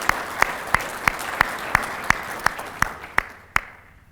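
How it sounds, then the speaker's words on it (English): A few people clap at a breakfast event, roughly a dozen sharp, evenly spaced claps sounding close and fairly loud before trailing off into quiet. "he deserves a round of applause for his leadership as he retires"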